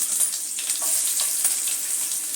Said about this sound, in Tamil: வெங்காயம் வெள்ளைப்பூடை போட்டு ஃபஸ்ட்டு ஒரு தடவை வதக்கிக்கலாம்